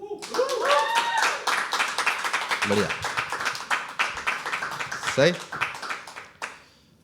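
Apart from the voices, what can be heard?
audience clapping loudly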